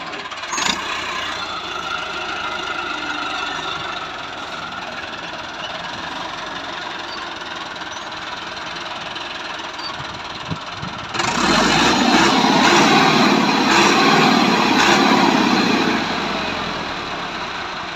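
A 2021 FiAT 385 tractor engine runs at a steady idle with a rough, knocking hum. It swells noticeably louder and fuller partway through and holds there, close by with no talk.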